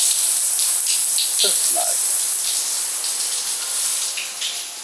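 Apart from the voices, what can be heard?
water gushing in spa geyser lake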